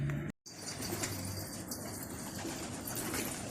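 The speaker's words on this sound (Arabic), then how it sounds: "شايفين كيف شادة بالعالي الحمام" Pigeons flying high above a rooftop loft in Irbid, Jordan, with continuous soft wing flapping and faint cooing against steady outdoor noise, briefly cut out near the start.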